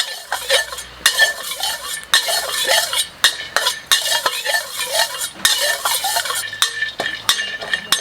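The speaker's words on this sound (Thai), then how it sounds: "พริกนี้คั่วให้หอมเลยนะครับนี่" Chilies are dry-roasted in a pan, with a spatula stirring and scraping them in quick repeated bursts. Metal clinks against the pan over a faint sizzle, loud and close.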